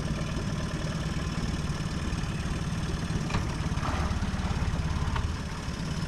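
A Yamaha outboard motor on a Gheenoe boat starts and runs at a steady idle, a continuous low rumbling drone with faint clicks on top, loud and close throughout.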